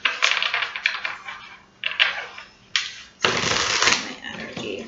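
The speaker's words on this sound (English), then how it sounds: "Let's get one more shuffle." Rapid papery riffling and flicking of tarot cards in short bursts, with a longer, louder shuffle near the end; close and crisp.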